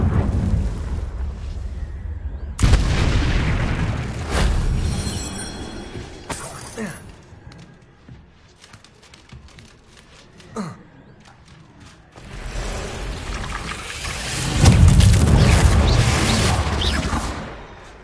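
Repeated explosive blasts of the Confringo fire spell in Hogwarts Legacy, several loud bursts separated by quieter gaps with rumbling tails and a final sustained roar near the end.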